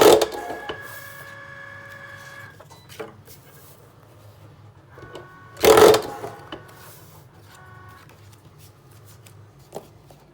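A paper punch machine notches the bottom edges of recipe book pages for a coil-bound book, giving a few mechanical clunks and one sharp, louder punch near the middle over a quiet room.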